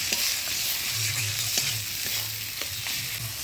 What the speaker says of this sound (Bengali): সব মশলাপাতি দিয়ে ভাজা ভাজা করে নিলাম